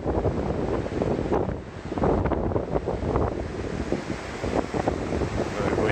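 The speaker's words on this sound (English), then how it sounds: "Very windy." Strong wind buffets the microphone on a hillside walk near Malham, a continuous loud roaring rush with gusts rising and falling and no talk.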